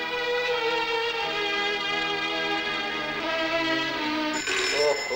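A telephone rings in a Bollywood film scene, heard as a steady tonal buzzing ring with dense harmonics that runs for several seconds against faint background noise and ends with a brief clatter.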